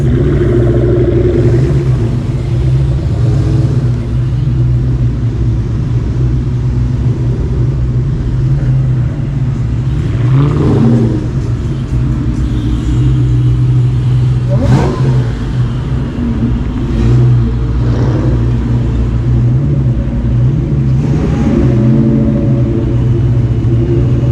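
Loud engines of 2003–2004 Mustang Cobras rumble and rev close by as several cars roll into a car show, deep idling growl punctuated by throttle blips.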